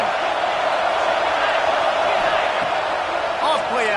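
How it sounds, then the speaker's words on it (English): Stadium crowd at a Trojans football game: a dense, steady roar of the crowd cheering continuously, with a few whistles and shouts near the end. "This crowd ready to make its presence known"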